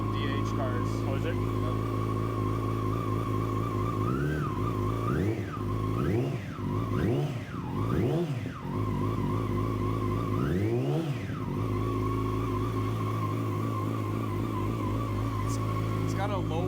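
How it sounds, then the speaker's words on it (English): Cold 2017 Yamaha YZF-R6 motorcycle engine idling low and steady at close range, with several short throttle blips rising and falling, while people talk over it. "It's got a lower idle than my bike does."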